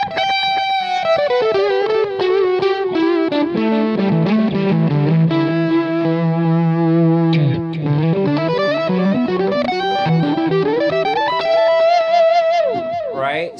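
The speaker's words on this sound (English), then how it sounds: "So right now I've got an Echoplex dialed in already" PRS electric guitar played through an Echoplex delay, a continuous melodic line of notes and chords with repeating echoes trailing each phrase, loud and up close with no talking.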